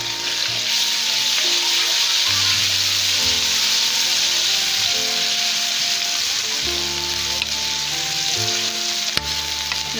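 Onions and potatoes frying in a pan as garlic-ginger paste is added, giving a continuous close sizzle and hiss with occasional stirring scrapes, while someone talks over it.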